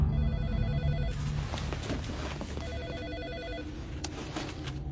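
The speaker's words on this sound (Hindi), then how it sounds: "काइजर, अबे फोन उठा के चुपचाप बैठा रहेगा, कुछ बोलेगा?" Telephone bell ringing in a tense scene from the 2009 action movie Acid Factory, repeating in two clear bursts of trilling rings over a low rumbling score and background noise.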